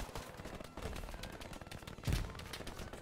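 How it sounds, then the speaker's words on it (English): Gunfire in the World War II shooter game Hell Let Loose, a dense busy battle mix of shots with a heavier low boom near the two-second mark, steady and fairly loud throughout. "I hear these shots calling my name."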